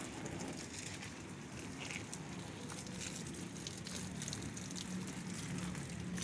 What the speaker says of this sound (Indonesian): selanjutnya kita lakukan penyiraman agar tanamannya tumbuh segar